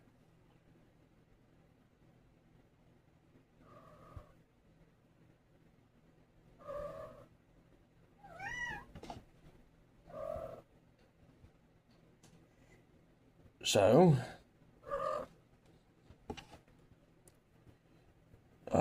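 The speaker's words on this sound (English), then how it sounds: "I got some here kitty cat." A cat meowing in several short separate calls, some rising and wavering, close and fairly clear over a low steady hum, with a brief spoken word near the start.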